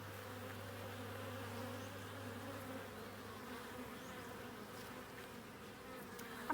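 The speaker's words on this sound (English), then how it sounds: "This hive is very healthy. It's very full." Honey bees buzz in an open, very full and healthy beehive, a steady low droning hum filling the whole stretch at moderate level, with no talking.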